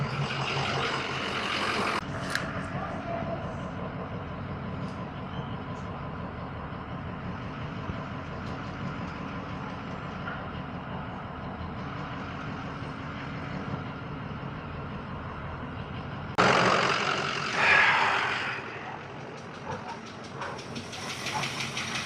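Car engine idling and running steadily as the vehicle backs out and turns a corner, a continuous hissing drone that swells louder near the end; no talking.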